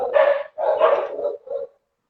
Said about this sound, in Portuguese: Cachorrada quer participar da live também.